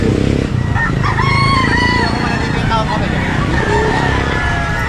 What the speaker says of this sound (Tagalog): Dito naman nakapwesto yung mga manok mga boss